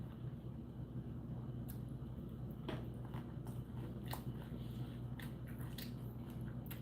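Someone eating taco salad, close wet chewing and crunching bites repeating through the clip over a steady background hum, with no talking.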